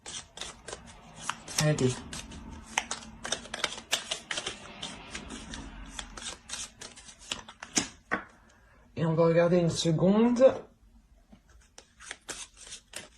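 Tarot cards are shuffled by hand in a burst of quick, crisp riffling and slapping taps, close up, as someone speaks briefly in between.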